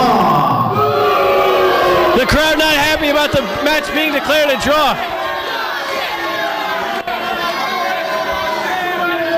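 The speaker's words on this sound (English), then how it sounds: "these fans are upset and they're letting these two competitors know about it" A wrestling crowd at a live independent show jeers and shouts its displeasure after a match is ruled a draw, a loud, dense wall of voices with a commentator talking over it throughout.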